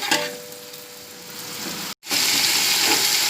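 Beef frying with browned onions in a pot for Punjabi-style pulao, a loud close sizzle that breaks off for an instant and then returns stronger and hissing.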